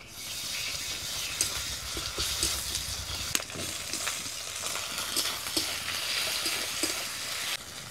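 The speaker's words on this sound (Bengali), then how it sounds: "পেঁয়াজটা ভাজা হয়ে গেছে। এবারে দিয়ে দিব আদা রসুন বাটা।" Fried onion keeps sizzling in a pan as ginger-garlic paste goes in and is stirred, a steady loud hiss with scraping stirs and one sharp clink partway through, and no one speaking.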